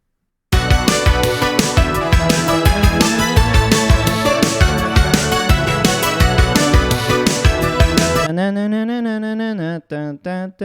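Bright synthesizer plucks from Arturia Pigments recreating a famous synth lead play a fast, bouncy melody with drums over a bassline, ending with a short sustained tone with vibrato and a few brief notes.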